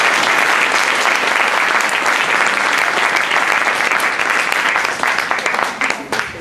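Theatre audience applause, loud and dense clapping from a full house, sustained evenly before thinning slightly near the end.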